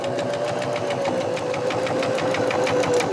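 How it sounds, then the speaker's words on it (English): A sewing machine stitches steadily around the edge of a fabric lap quilt, a close, loud, rapid even chatter of the needle with a constant motor hum throughout. "So now we're going to sew all the way around."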